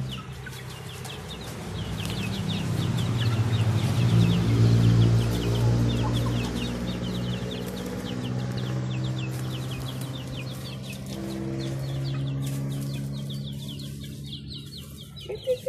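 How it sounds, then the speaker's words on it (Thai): Chickens and growing chicks cluck and chatter steadily, several birds close by on a Thai mango orchard, with soft peeping and scratching sounds and no talking. "ลูกไก่อ่ะกำลังโต"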